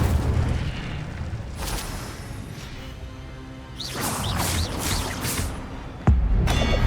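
Incendio, a fire spell in Hogwarts Legacy, bursts with booming, crashing blasts and whooshing flame, a rumbling flurry that builds midway and ends in a sharp final impact.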